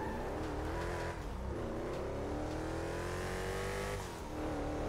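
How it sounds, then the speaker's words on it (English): Car engine revving in the video game GTA 5 with real-life mods, a loud sustained engine roar that rises and dips in pitch as the throttle is worked, briefly easing off twice. "Oh, you guys hear that engine though?"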